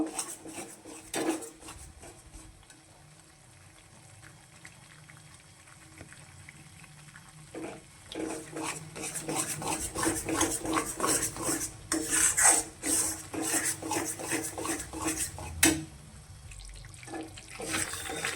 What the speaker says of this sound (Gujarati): આ રીતે આપણો લોટ શેકાવા માંડ્યો છે તો આ રીતે શેકવાનો છે